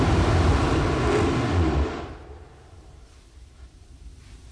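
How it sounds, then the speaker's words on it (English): Ignition of the 3D-printed engines on a Terran 1 rocket at launch, heard as a loud, broad roaring rush that drops away sharply after about two seconds, leaving only faint noise. "we had ignition of our engines, but the T-clock did hold at T0"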